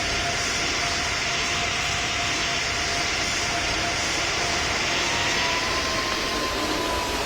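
A loud, steady airplane engine drones continuously as a plane taxis in the Roblox flight game PTFS, a broadband roar with a faint whining tone running underneath.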